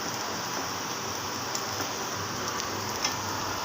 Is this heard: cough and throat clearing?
no